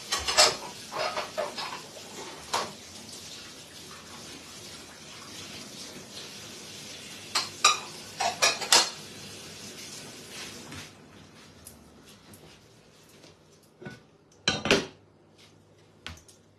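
Dishes and pots being washed by hand: scattered clinks and clatters of crockery and cutlery over running water, with louder knocks in bursts and quieter stretches between.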